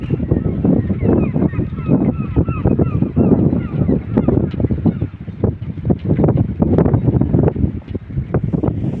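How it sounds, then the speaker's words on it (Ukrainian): White-headed ducks quacking and calling in a busy flock at a bay in Skelskør, Denmark, steady overlapping calls with wind noise and a bit of talk mixed in. "Ось ці качечки, качечки білоголовки."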